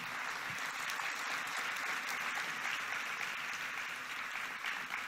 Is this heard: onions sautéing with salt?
no